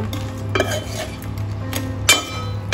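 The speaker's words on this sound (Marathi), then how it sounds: "थोडी मिक्स करते" A spoon stirs through crab curry in a pot, scraping and clinking softly in short strokes, with a low hum underneath and no voices.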